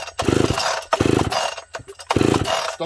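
Chainsaw being pull-started in winter, a decomp-equipped saw long unused: three separate bursts of rough engine-like rattle, each under a second, near and fairly loud, with brief pauses between attempts.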